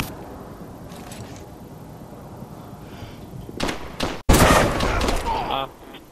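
Bursts of gunfire from a first-person shooter game hit in the last couple of seconds, loud and close, with a sharp crack that leads into sustained shooting over faint background chatter.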